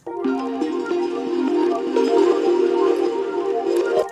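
Gamelan loop of bright microtonal plucked metallic tones layered over a steady bass line with light reverb, dense, continuous and shimmering for the whole stretch, no voices.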